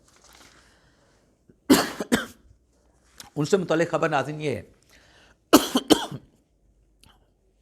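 Speech broken up by a few sharp bursts of coughing and throat clearing, close to the mic, with talking in between.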